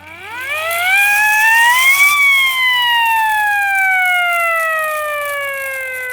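Hand-cranked mechanical siren from the 1920s being wound up, its loud wail climbing steeply in pitch over two seconds, then slowly sliding down as it spins down, heard close and alone.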